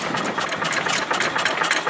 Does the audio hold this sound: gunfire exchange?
no